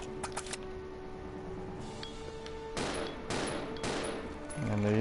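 Resident Evil 0 shots ring out: a few quick sharp pistol pops early, then heavier booming shotgun blasts with long reverberant tails, fairly loud against a quiet, humming background.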